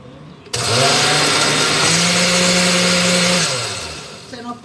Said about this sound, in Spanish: Y volvemos a batir.